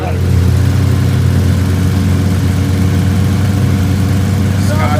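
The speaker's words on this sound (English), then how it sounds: "you cannot believe the noise three motorcycles make" Three motorcycles idling close by, a dense, loud low rumble of overlapping engines running steadily throughout, with voices faintly underneath.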